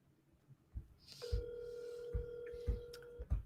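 An outgoing call on a telephone line gives a steady electronic ringback tone that holds for about two seconds, with quieter tones and low knocks around it.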